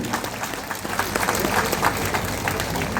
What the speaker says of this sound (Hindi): आप थोड़ा उनके लिए भी ताली दे दीजिए